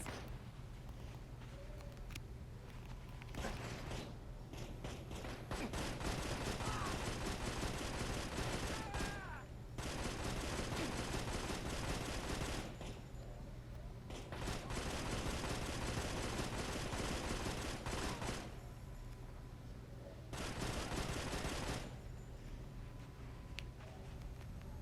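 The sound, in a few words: gunfire from a video game (GTA Vegas)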